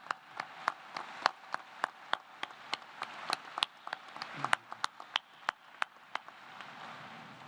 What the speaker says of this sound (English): How about a round of applause for all of that?